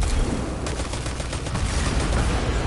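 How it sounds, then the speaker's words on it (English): A grenade goes off amid heavy gunfire in Destiny 2, a dense, loud barrage of rapid shots and blasts running continuously with no talk. "Let me throw my grenade in there."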